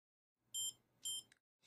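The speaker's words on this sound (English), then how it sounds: "it'll make two beeping noises and the light flashes" Two short, bright electronic beeps close together from a stylus pen being switched on, followed by a brief click, quiet and close.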